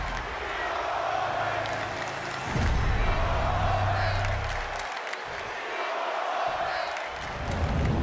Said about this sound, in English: This capacity crowd is waiting with bated breath.